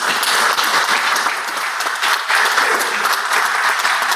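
A Mississippi Senate chamber breaks into steady, dense applause welcoming a visiting sixth-grade class in the west gallery, loud and continuous for about four seconds with no talk over it.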